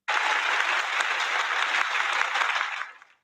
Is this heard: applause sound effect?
yes